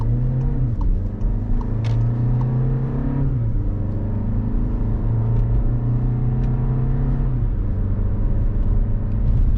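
A 2020 Volkswagen Tiguan S 4Motion AWD accelerating down a ramp, its engine and road rumble heard from inside the cabin as a steady hum with rising pitch and a brief gear shift dip.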